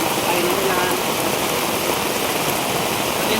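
Heavy rain pours down steadily in a village, a dense, even hiss of water drumming on surfaces, close and continuous with no pauses.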